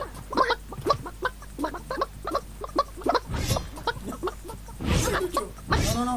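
In the video game Realm Royale, a chicken clucks over and over in short, uneven bursts, and loud voices break in over the clucking now and then.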